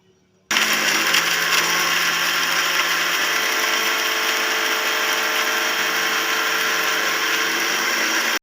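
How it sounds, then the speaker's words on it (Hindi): A blender or grinder crushing six to seven almonds starts abruptly after a brief silence, then runs as a loud, steady, close whirring roar until the end. "तकरीबन 6 से 7 अदद बादाम, इसको हम क्रश कर लेंगे।"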